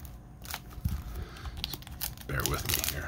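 Crinkly plastic packaging rustles and tears in short bursts, close to the microphone, with a louder ripping stretch near the end.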